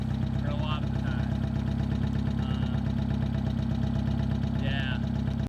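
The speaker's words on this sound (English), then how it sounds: "that's called blowing a hole in your exhaust pipe" A 1985 Nissan 200SX with a hole in its exhaust idles loudly and roughly with a deep, throbbing exhaust rumble, steady throughout, while voices talk over it.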